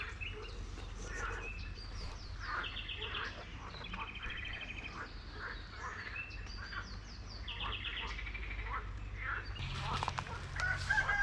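Chickens clucking and a rooster calling amid a busy outdoor background of bird chatter and steady low hum, fairly distant and continuous.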